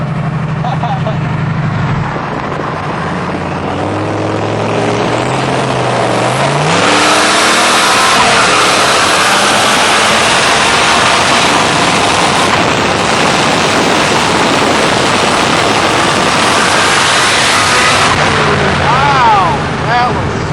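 A drag-racing truck with its exhaust cutout open roars loud and close against a GSX, its revs climbing and surging into a sustained, rasping blast over voices talking.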